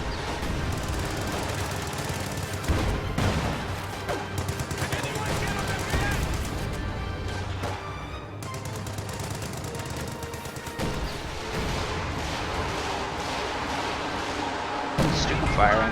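Artillery and rifle and machine-gun fire from a Company of Heroes 2 battle rattle almost without pause, with sharp bursts and heavier booms layered throughout and a voice talking over the combat at times.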